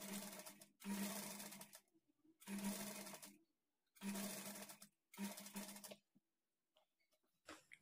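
A sewing machine stitching piping onto a blouse neck, running in five short loud bursts of fast mechanical whirring separated by brief pauses, close up and alone.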